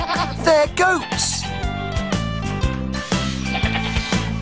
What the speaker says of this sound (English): They're goats!